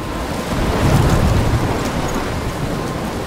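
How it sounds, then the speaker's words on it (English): Thunderstorm in the video game Life Is Strange, with steady heavy rain hissing and a low thunder rumble swelling through the middle, dense and continuous with no voices. "I'm trapped in a storm?"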